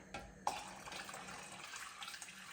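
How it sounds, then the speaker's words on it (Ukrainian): Hot water from a kitchen tap runs into a pot, a faint, steady splash that starts abruptly and continues softly throughout. "Заливаю в кастрюлю гарячу воду, ну з крана гарячу, не з чайника"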